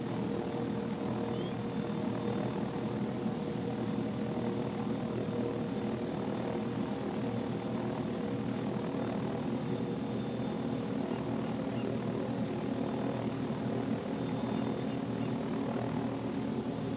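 Idling helicopter engine in the flight simulator game Take On Helicopters, a steady droning hum with a constant turbine whine and low rotor throb, holding evenly throughout with no talk over it.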